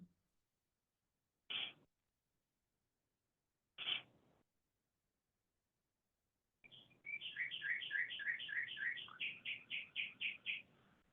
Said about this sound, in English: And listen to the birds.